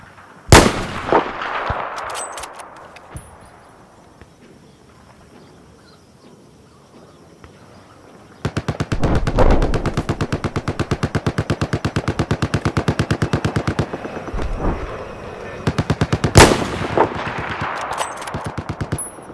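Gunfire in a video game with an enemy sniper: single loud cracks near the start, then a long stretch of rapid automatic bursts, with further sharp shots near the end amid faint chirping ambience.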